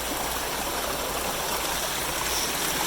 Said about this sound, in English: this water course, which is flowing very, very fast today. This is the closest thing you get to a rapids down here.